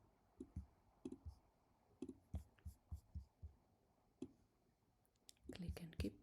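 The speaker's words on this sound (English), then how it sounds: "Okay, click and keep pressed." Computer mouse clicking while drawing in Adobe Illustrator, a series of quiet, close clicks in an uneven rhythm of single and paired presses, with a soft rustle of movement near the end.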